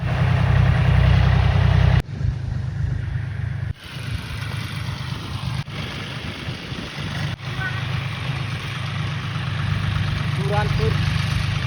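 A tractor engine idles steadily on a farm in light drizzle, a low continuous rumble running throughout with a few brief breaks and handling knocks, close and fairly loud.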